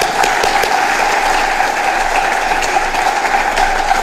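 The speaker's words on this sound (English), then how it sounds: "Please, let's give His Excellency another applause of a crowd." A large crowd at a state of the region address gives another round of applause, a thick, steady wash of clapping that stays loud and continuous for several seconds.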